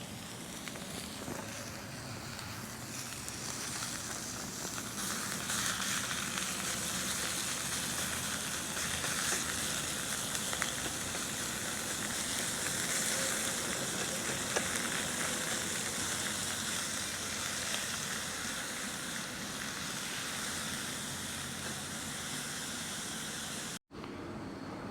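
Half a pound of ground beef browning in olive oil at a camp cookout, a continuous close sizzle and crackle that holds steady for the whole stretch before cutting off abruptly near the end.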